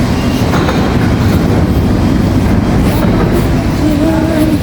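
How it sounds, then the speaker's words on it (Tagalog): A metro train pulls in and rides on, a loud, continuous rumble of wheels and carriage noise filling the space, with a brief squeal near the end and no voices. "Ayan na yung metro."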